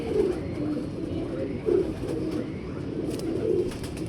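A freshly caught female pigeon gives low, soft coos in about three repeated phrases, close and steady, over a faint background hum.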